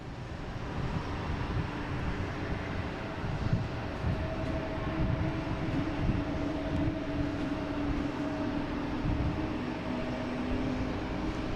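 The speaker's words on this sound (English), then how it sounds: "So JetBlue heading to Philly. It's flight 1181, A220." JetBlue Airbus A220 jet, flight 1181 to Philadelphia, at Boston Logan, a fairly faint continuous engine drone with steady tonal whine lines running throughout, no voices.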